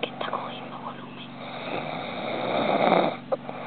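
A man snores loudly inside a camping tent, with a steady rasping rhythm close to the mic while other people whisper quietly nearby.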